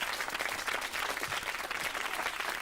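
Audience applause for Scampy, a puppet act at a Sooty stage show, fills the whole stretch as a steady, dense wash of many hands clapping at a moderate distance, with no talk over it.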